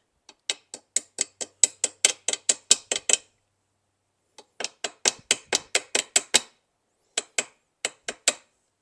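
Rapid sharp metallic taps on a classic car vent window part, two quick bursts of about a dozen close, loud clicks each, then a few slower, spaced taps after a pause.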